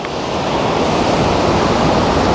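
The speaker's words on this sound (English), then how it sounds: "On the river Isar, that's the river going through Munich" The Isar river in Munich rushes past as a steady, loud, broadband roar of flowing water, continuous and close with no talk over it.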